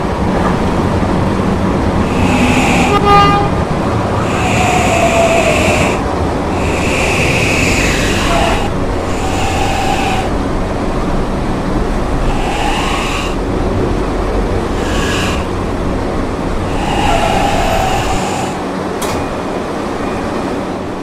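An R160C subway train rolls steadily between stations, with a loud continuous rumble and wind roar and repeated bursts of higher squealing and rattling.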